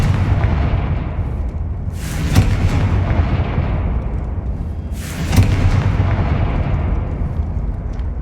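A Confringo spell explodes in Hogwarts Legacy: two heavy booming blasts about three seconds apart, each a sharp loud burst that trails off over a constant rumbling game soundscape.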